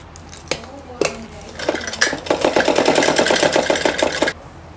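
A sewing machine stitches a seam on a four-panel salwar, with a few isolated clicks first, then a fast, even run of close mechanical pulses for about two seconds that stops abruptly.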